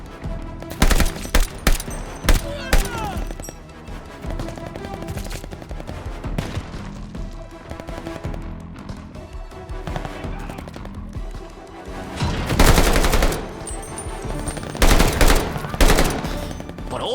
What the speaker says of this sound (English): Every gun feels powerful and weighty.